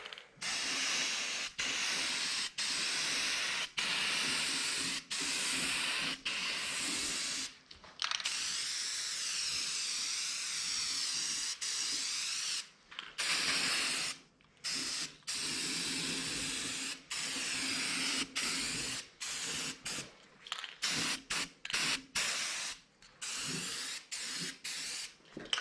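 A spray can lays down a pearl gold paint coat in a long run of close, hissing bursts, some several seconds long and others short, separated by brief silences, with no talking.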